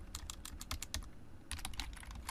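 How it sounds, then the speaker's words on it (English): Rapid keystrokes on a computer keyboard while typing code by hand, a quick irregular clatter of close, crisp taps in two bursts with a short lull between them, no voices. "I'm doing the danger of typing all this by hand"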